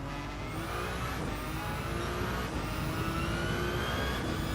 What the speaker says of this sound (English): I hear other cars, but there's no way.